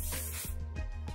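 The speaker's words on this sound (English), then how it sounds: "I use this kind of hairspray that my mama gave me that's fast drying" Fast-drying hairspray sprays from a can held close: one long, loud hiss, then several short bursts in quick succession.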